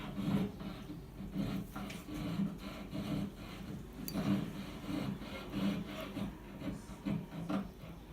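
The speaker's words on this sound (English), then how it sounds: "we're going to use a scalpel to cut to the exterior, to these lines" A scalpel cuts about a quarter inch into a mold along marked lines, giving steady rhythmic scraping and rubbing strokes, close and moderately loud, repeating roughly every second with no talk.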